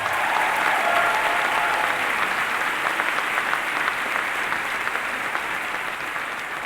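Sustained applause from a political rally audience, a thick even wash of clapping with a few cheers that carries for nearly seven seconds and eases slightly toward the end.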